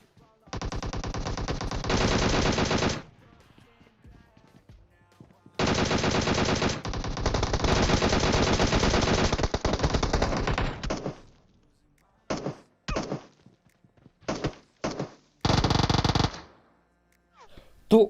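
Rapid bursts of DP light machine gun fire in the video game PUBG, loud and close, with two long sustained volleys followed by several short, sharp bursts separated by brief silences, no voices.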